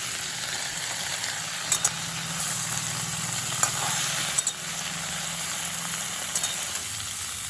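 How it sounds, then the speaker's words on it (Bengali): Mixed vegetables, potato, beans, cauliflower, radish and cauliflower stalks, frying in a pan for a Bengali chorchori, giving a steady close sizzle with a few scattered pops and clicks and no talking. "প্রায় 4-5 মিনিট সময় নিয়ে আমি সবজিগুলো একটু ভাজা ভাজা করে নিয়েছি।"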